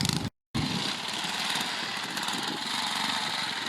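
A trial motorcycle engine runs steadily at a club trial event, giving a continuous buzzing drone at moderate distance with a brief cut near the start.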